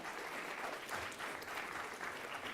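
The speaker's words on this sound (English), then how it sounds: "So this is a big round for applause for everyone." Quiz participants at a live-streamed quiz event give steady applause, heard faint and distant throughout with no talking.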